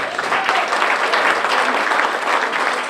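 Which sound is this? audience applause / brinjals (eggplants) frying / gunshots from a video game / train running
audience applause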